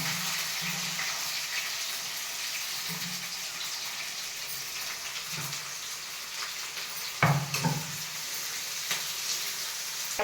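Chopped onion fries in a pan for upma, a steady close sizzle with a bright hiss and occasional louder crackles and stirring clatter, while low voices murmur intermittently in the background.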